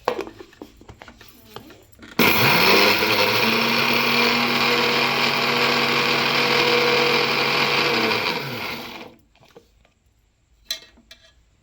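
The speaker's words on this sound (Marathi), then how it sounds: "आपण आता मिक्सरमध्ये बारीक करून घेऊया" Dried rice is ground into flour in a mixer grinder that starts abruptly, runs as a loud, steady, whining motor roar for about seven seconds, then winds down and stops, with faint handling noises before and after.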